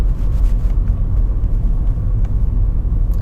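Small engine of a Volkswagen Up GTI pulling steadily at around 40 in urban driving, heard from inside as a continuous loud low rumble with road noise and no talk.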